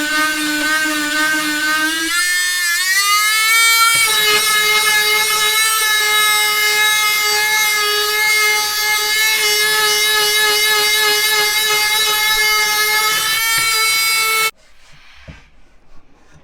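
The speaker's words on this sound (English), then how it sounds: "we're just going to test the sanding" An ALDI Workzone 12V cordless multi-tool sanding oak, a loud, steady high-pitched whine with a buzzing oscillating drone that briefly shifts pitch before settling, running close up and then cutting off abruptly near the end.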